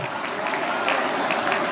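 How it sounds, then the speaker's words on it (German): A crowd at a cattle show in Uttendorf applauds after a prize announcement, steady, fairly distant clapping from many hands throughout the short stretch, with no talk over it. "Ebenfalls Gratulation und einen kräftigen Applaus bitte."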